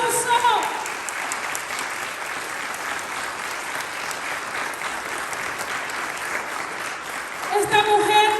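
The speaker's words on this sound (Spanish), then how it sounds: "Dale el aplauso." A prayer group's congregation breaks into sustained, dense applause filling the room evenly for several seconds, with voices rising briefly at the end.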